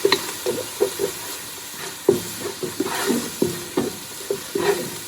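Tomato paste cooks in a pan while being stirred, giving soft sizzling and frying hiss with irregular scraping stirs up close.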